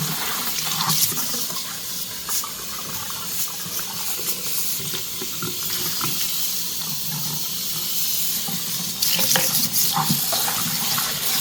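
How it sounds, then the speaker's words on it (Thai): Hot water poured steadily for cleaning with baking soda, a continuous hissing splash of running liquid lasting throughout, close and fairly loud with a few brief sharper spikes. "ต่อไปเราสามารถใช้น้ำร้อนนะคะทำความสะอาดเรื่อยได้เรื่อยไปได้"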